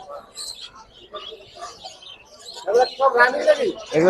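Hollander canaries and other caged birds at a bird market chirp in quick, bright, close twitters, with someone talking over much of the clip.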